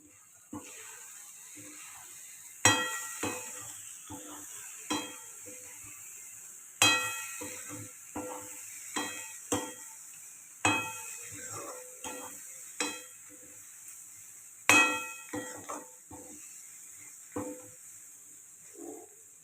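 Ingredients are mixed by hand or spoon in a bowl, giving a repeated rhythm of soft wet squelches and scrapes, each stroke rising sharply then fading, quiet and close with no talking.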